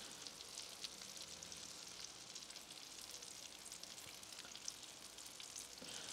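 Flour sizzling in melted butter with meat on a Blackstone griddle, a faint, even crackle of frying that carries on steadily with no voices.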